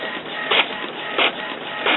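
An HP Officejet Pro 8600-series inkjet printer running pages with a continuous ink supply system fitted, its steady mechanical hum broken by three regular louder carriage swooshes roughly every 0.7 seconds, close and alone.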